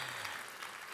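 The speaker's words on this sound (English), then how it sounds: "Yeah, we can applaud." A quick, faint wash of audience applause during a business talk, a brief even burst of many hands clapping at a distance.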